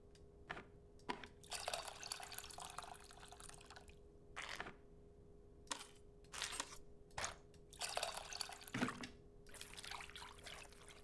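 Water dripping and trickling in short bursts as tamarind water is strained in the cooking game Venba, with a faint steady hum underneath and quiet gaps between the splashes.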